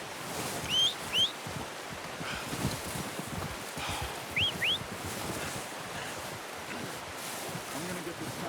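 Horse hooves clip-clop in Red Dead Redemption 2, a steady outdoor plod under wind and ambient noise, with a few brief bird chirps above.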